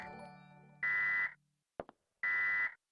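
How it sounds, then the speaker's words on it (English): Emergency broadcast system test alert tone heard in the video game Dino Crisis: two loud, identical steady electronic beeps about a second apart, alone after a fading chime. "This is a test of the emergency broadcast system."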